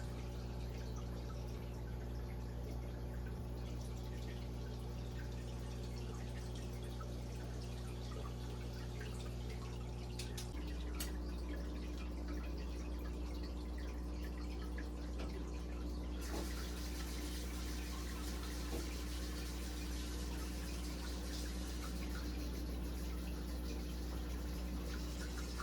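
An AquaClear hanging aquarium filter in a tank of Buenos Aires tetras, a soft continuous trickle and splash of flowing water over a steady low hum, faint and unbroken, with no voices.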